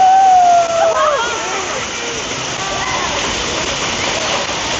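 Water pours steadily from a large waterfall during a jungle hike in Papua New Guinea, a loud, continuous close rushing roar with a brief whistling tone at the start.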